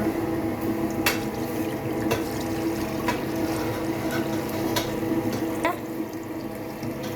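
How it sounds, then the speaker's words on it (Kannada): Water pours steadily for a first rinse, a continuous splashing rush that stays close and fairly loud. A few sharp clinks and knocks sound through it now and then. "ಒಂದನೇ ಸತಿ ನೀರು ಹಾಕ್ಬಿಡೋಣ."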